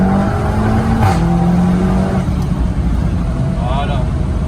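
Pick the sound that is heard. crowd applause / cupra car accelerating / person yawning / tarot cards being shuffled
cupra car accelerating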